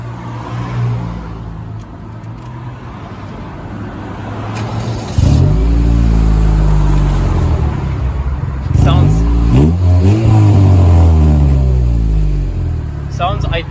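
A 2004 Saturn Ion with a muffler-delete straight-pipe exhaust idles with a deep drone, then revs up and down several times in loud sweeping bursts, with people talking over it.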